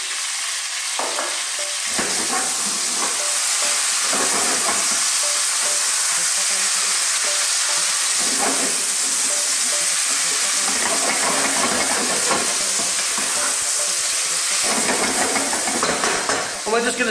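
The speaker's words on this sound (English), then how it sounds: "we're just going to stir fry that for 2 or 3 minutes" Tuna fish stir-fried in a pan for a sweet and sour dish makes a loud, continuous crackling sizzle, with rhythmic scraping and tossing throughout and no pause.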